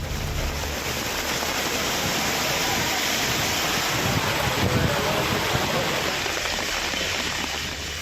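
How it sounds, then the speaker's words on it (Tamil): Heavy rain pouring down during a thunderstorm in Tenkasi district, Tamil Nadu: a dense, steady, loud hiss of downpour throughout, with no distinct thunderclap standing out. "இடி மின்னலுடன் கனமழை கொட்டி தீர்த்தது"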